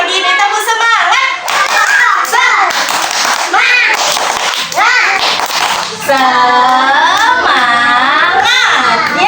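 Children doing a rhythmic spirit-clap chant in a physical development lesson, loud close claps in a patterned beat mixed with excited shouting and chanting voices throughout.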